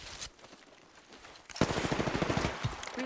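Rapid automatic gunfire in a shooter video game bursts in loud and close halfway through, a dense rattling stream of shots that runs to the end after a quieter stretch of game ambience.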